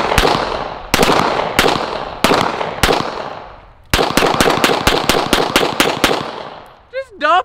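Gunshots from a double stack 1911 pistol in 9mm, a string of sharp loud cracks fired close by: a few spaced shots, then a quicker run of rapid shots, followed by brief voices at the end.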